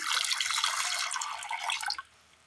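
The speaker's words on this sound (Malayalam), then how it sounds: "ഒരൽപ്പം വെള്ളം ഒഴിച്ചു കൊടുക്കാം" Water is poured into a clay pot holding washed jackfruit seeds, a close, steady splashing pour lasting about two seconds before stopping abruptly, with no talk.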